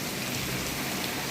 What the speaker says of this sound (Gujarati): જો વરી વરસાદ વધી ગયો